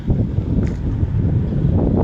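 Strong wind buffets the microphone on a riverside beach facing across the water toward Laos, a continuous low roaring rush with no voices over it.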